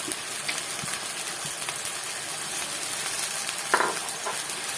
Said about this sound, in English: I'm going to put a little bit of onion and garlic